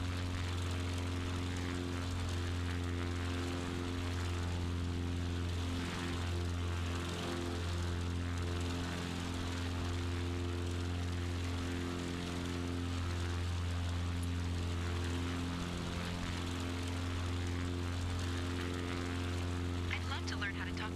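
A propeller aircraft in a video game flight simulator drones with a steady, even engine hum throughout, with speech over it at times.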